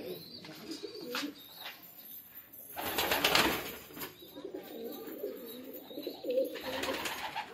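Pigeons coo softly and repeatedly, with scattered chirps and a brief rustle of wings; several birds nearby, no talking.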